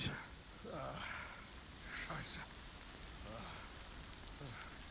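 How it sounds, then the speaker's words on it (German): Rain falls steadily in a video game, a soft continuous patter on a surface with light drop texture, while people talk over it. "Und sehr beruhigender Regensound, ey."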